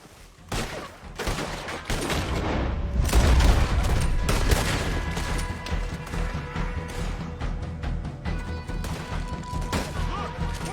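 Dense gunfire in the Red Dead Redemption 2 video game, with rapid overlapping shots and crashes from a sustained firefight that stays loud throughout, and shouting voices mixed in.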